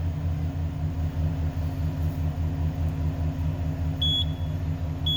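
A 2023 GMC Yukon engine idles in a low, steady rumble, close and even, with a short electronic beep near the end.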